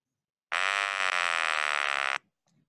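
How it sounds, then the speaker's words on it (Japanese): A single harsh electric buzz sounds loud and steady for about one and a half seconds, then cuts off abruptly; the buzzer stands in for vocal cord vibration in a model of the vocal tract. "ブザーの音はこのような音です。"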